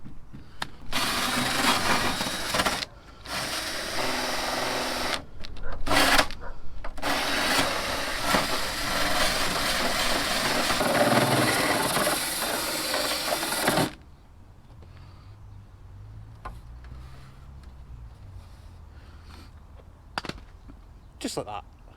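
Power sanding of a Mazda MX-5 dashboard with 80 grit sandpaper: a loud, steady, rasping whir runs with a few short breaks, then cuts out, leaving a quieter stretch with faint knocks and handling noises.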